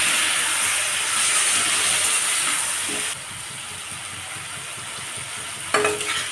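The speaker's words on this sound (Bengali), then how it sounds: "এখানে আমি অল্প একটু জল দিলাম।" Water poured into a hot pan on a low gas flame while cooking a cauliflower curry, a loud steady sizzle and steam hiss that eases partway through, with a light clink near the end.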